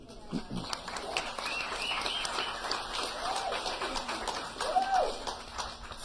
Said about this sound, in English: Thank you for applauding yourselves.